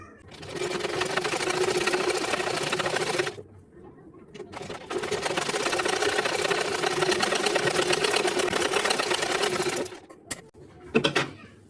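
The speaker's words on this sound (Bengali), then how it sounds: "এখন দেখি খুব ইজিলি সেলাইগুলো করে নেওয়া যাচ্ছে" A sewing machine runs fast, stitching fabric beside a beaded edge in two long bursts with a short pause between and a brief final spurt; its steady motor whir and needle clatter are close and even.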